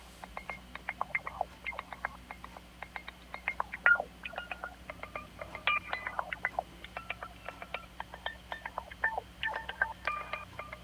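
Wacky electronic synthesized beeps in rapid, irregular Morse-code-like bursts made for ant jazz music, with short tonal blips and chirps over a low steady hum.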